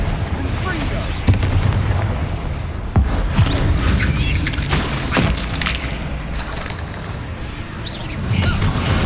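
Fiery blast spells erupting in Hogwarts Legacy, a run of booming bursts and sharp impacts over busy combat sound, with a voice calling out spells throughout.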